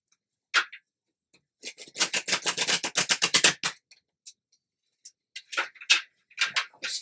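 Playing cards shuffled close up on a table with a poor surface for shuffling: a dense two-second burst of rapid riffling flicks, then a few scattered separate snaps and rustles.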